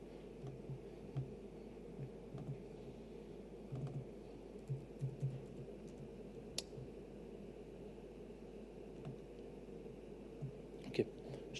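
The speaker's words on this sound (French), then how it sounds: "Et là, je vois pas ce que je tape." Soft, faint clicks of typing on a computer keyboard during a technical demo of network configuration, scattered irregular keystrokes over a low steady hum with no clear talking.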